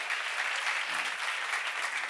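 A church seminar audience breaks into dense, continuous applause, loud and even for about two seconds with no voices over it.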